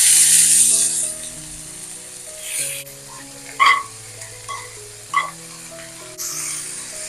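Cabbage and carrot hit hot oil already popping with mustard seeds, black gram and curry leaves, giving a steady sizzle with a few clanks and scrapes of stirring, while background music plays over it.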